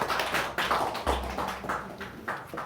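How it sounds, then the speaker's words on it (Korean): Scattered applause in a church congregation, uneven and modest in volume, with irregular bursts of hand claps over a few seconds. "우리 박수로 격려하겠습니다"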